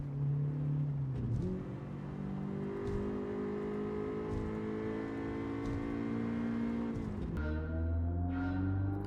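A front-wheel-drive Honda Civic in Gran Turismo drones steadily through a long gear, engine pitch slowly climbing, then briefly drops at a shift and rises again, fairly quiet and alone.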